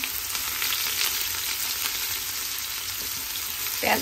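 Dried chillies sizzle and fry in hot oil in a pan while khichuri is being cooked, giving a steady, close crackling hiss with a brief louder spatter near the end and no speech.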